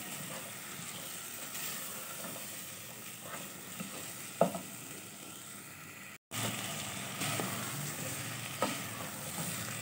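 Potatoes being stirred into a chickpea curry in a hot pan, with continuous sizzling and hissing, scraping stirs and occasional soft clinks, close and steady with a brief cut midway.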